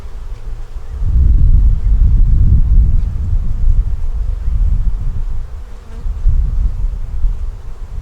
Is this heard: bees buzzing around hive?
yes